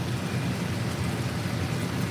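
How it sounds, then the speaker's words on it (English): Steady broadband whooshing of a running kitchen vent fan, constant and fairly loud, with no other sounds. "I do want to turn on my vent fan."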